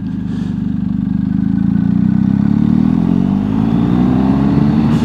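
Motorcycle engine running steadily and loud while the bike leans through turns, the revs rising and falling with a clattery mid-range drone and no talking.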